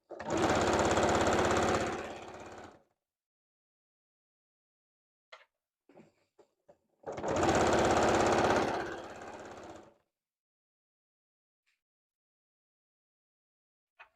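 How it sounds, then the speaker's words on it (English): A sewing machine stitches bias binding onto a qaspeq vest in two loud runs of fast mechanical whirring, each about three seconds, separated by quiet with a few faint clicks of handling. "I'm just going to sew and I just move it and pinch it while I'm sewing"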